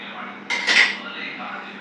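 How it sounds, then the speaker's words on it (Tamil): A metal kadai is set down on a stovetop in a home kitchen, making a single short clanking contact with a brief ringing tail against quiet background noise. "ஒரு கடாய் வச்சுக்கலாம்."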